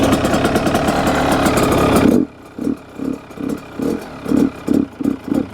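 A Yamaha YZ85 dirt bike engine fires up with the choke on, a dense steady roar for about two seconds that drops into uneven, sputtering pulses as it struggles to keep running, close and loud.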